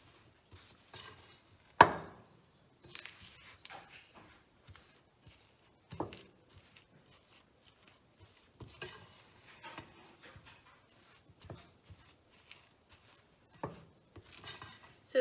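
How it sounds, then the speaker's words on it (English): Black beans, brown rice and walnuts are folded and mashed together by hand into veggie burger patties, giving soft, quiet squishing and scraping sounds with occasional sharper knocks of a utensil, close and irregular, no talking. "Just folding everything and mashing it in with those beans so that it mixes well and forms into those patties"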